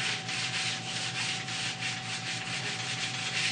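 Synthetic cork rubbing grip wax onto a cross country ski, a steady continuous scrubbing with a soft, even rhythm, close and fairly loud with no talking.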